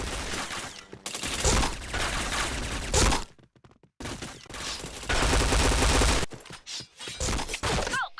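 Dense bursts of rapid automatic gunfire in the shooter game Point Blank, loud and continuous for stretches, broken by brief pauses and a few sharper single shots, no talking.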